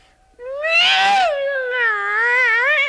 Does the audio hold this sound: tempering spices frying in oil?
no